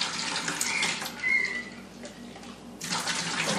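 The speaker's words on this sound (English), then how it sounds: "we're all set to go ahead and move the wort over" Wort for a red ale pouring and splashing steadily from one vessel into another, a close, continuous rush of liquid that eases briefly midway before surging again.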